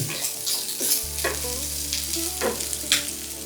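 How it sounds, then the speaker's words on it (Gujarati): Green chillies and ginger frying in oil over low heat, a steady close sizzle with a few stirring scrapes, a low hum starting after the first second, no voices. "મરચાંને અને આદુને અડધી મિનિટનો ટાઈમ આપી દેવાનો ધીમા તાપે"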